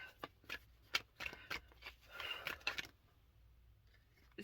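Oracle cards being shuffled: a close run of rapid riffling and flicking card sounds in uneven bursts, louder in the middle, then fading into near silence.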